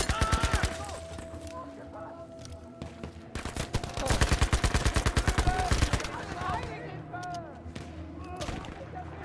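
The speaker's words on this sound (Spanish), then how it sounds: "¿Quién coño me está disparando?" Gunfire in the World War II shooter Battlefield V comes in rapid automatic bursts, loud and close, with pauses between volleys and someone talking over the shooting.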